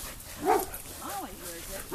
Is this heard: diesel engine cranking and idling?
no